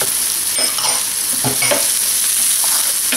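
Ginger sautés with onion and garlic in a pan, a steady bright sizzle under scraping stirs from a utensil, close and continuous.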